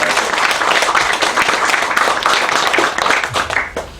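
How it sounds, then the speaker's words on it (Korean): A church congregation applauds together during a joint Sunday worship service, dense sustained clapping filling the room and tapering off near the end. "우리 하나님께 영광의 박수 올려드립시다"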